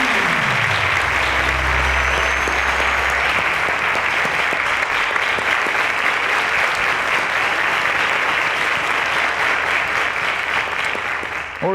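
A studio audience on a televised quiz show breaks into loud, sustained applause for a departing contestant, a dense wall of clapping running steadily to the end with a low hum briefly underneath at the start.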